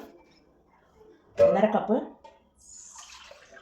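Second coconut milk poured into a pressure cooker holding chickpeas makes a short, close liquid splash and gurgle that lasts under a second, with quiet sounds before and after.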